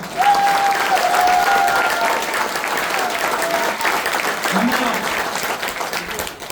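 An audience at a training session bursts into loud, sustained applause that fills the whole stretch and thins slightly toward the end, with a voice heard over the clapping.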